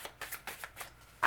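Tarot cards shuffled by hand in a quiet room, a rapid series of soft, papery riffling bursts repeating about five times, close and fairly faint, with no talking.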